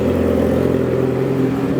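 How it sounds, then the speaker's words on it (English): A 2008 Yamaha R6 sport bike engine idles steadily as it warms up, giving a continuous, even hum with a low throbbing pulse close to the listener and no voices over it. "we're gonna go ahead and let the bike warm up for a little bit"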